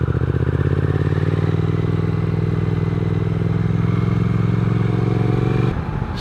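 A 2021 Triumph Speed Twin motorcycle engine runs loud and close in a steady, rough-edged rumble, holding constant for several seconds before dropping off sharply at the end.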